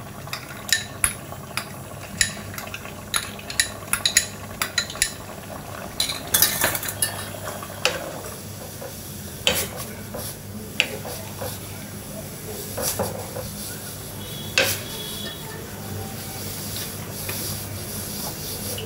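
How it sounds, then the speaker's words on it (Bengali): A metal spoon clinks and scrapes against a pan as spice paste is added and stirred for a curry, with irregular close knocks and rubbing over a faint background hiss. "এবারে আমি পেস্টটা দিয়ে দিচ্ছি।"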